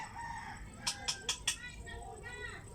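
Birds calling at a drained fish pond, four quick loud shrill calls in a row close by, followed by fainter calls, over a low background murmur.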